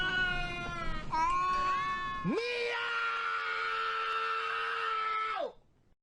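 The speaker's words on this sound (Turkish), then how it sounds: "Her gece 3'te kedi." A cat yowls at night in long, drawn-out wailing meows, loud and close, the cry rising and holding steady before breaking off abruptly.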